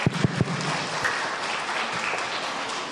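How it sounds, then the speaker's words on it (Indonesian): Seminar audience at a national seminar at UMM in East Java claps in a sustained round of applause, opening with a few sharp, distinct claps before settling into a dense, even patter. "Tepuk tangan yang meriah."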